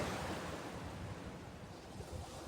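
Ocean waves wash steadily onto a shore in a quiet, even roar mixed with some wind rumble, heard alone without voices.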